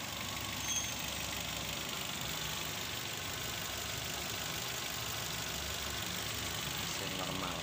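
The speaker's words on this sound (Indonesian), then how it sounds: "Nah, ini mesin stabil nyalanya." Car engine idling steadily while being checked for a lit check-engine light and a suspected faulty oxygen sensor, a low continuous even hum with someone talking over it.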